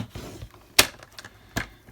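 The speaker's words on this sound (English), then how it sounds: "I'm going to put it up to the edge of the trimmer, and then I will score at" A paper trimmer scores card stock for Merci chocolate bar gift packaging, giving two sharp, close snaps or scrapes about a second apart over quiet handling noise.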